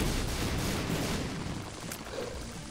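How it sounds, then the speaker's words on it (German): Enemies blowing up in the video game The Binding of Isaac: Afterbirth+, heard as a dense, continuous rumble of blasts and noisy bursts at moderate level with no pause. "Die explodieren."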